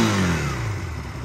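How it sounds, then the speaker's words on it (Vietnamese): A GPX Twin 250 twin-cylinder motorcycle is running nearby, its engine note from the exhaust dropping steadily as the revs fall back toward idle after a rev, loud and close with no talking. "Đang nổ máy luôn cho anh em nghe thử bô."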